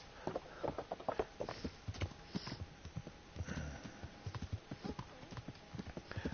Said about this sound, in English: Where's my horse? Here he comes, just prancing in.